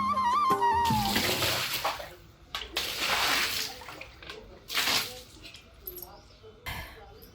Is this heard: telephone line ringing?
no